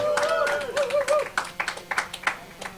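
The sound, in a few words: crowd cheering and applauding for player FnaticHarstem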